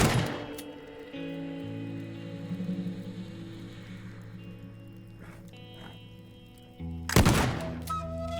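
A gun fires in the destruction video game Teardown: one sudden, loud burst near the end, preceded by a soft knock, over a steady droning tonal background.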